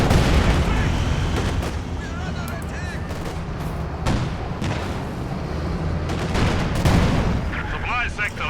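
An anti-tank gun volley strikes an IS-2 tank in Company of Heroes 2, loud booming game gunfire and impacts layered over a busy battle soundscape, with a commentator talking throughout.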